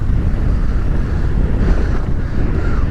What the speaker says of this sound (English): The waves are probably 3 to 4 feet right now.